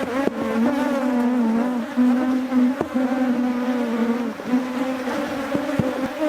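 A dense, loud swarm of agitated honey bees drones at an open hive, with wavering buzzing pitches layered up close and continuous throughout, broken only by a few faint clicks and knocks.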